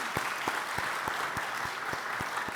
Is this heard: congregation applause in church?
yes